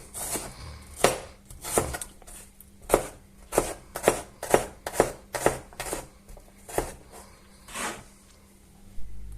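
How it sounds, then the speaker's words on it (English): A knife chops onion on a cutting board in a home kitchen, a dozen or so crisp, close taps in an uneven rhythm, with no talking. "I just chopped a couple of cloves of garlic, and now a bit of onion as well"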